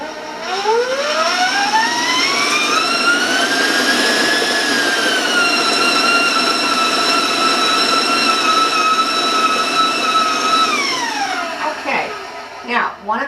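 Electric mixer running at high speed through applesauce spice cake batter: a loud motor whine climbs in pitch as it speeds up, holds steady for several seconds, then winds down with some clattering at the close.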